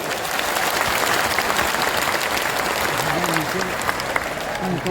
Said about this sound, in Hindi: ताली जोर से बजा दें, जोर से ताली बजाएं।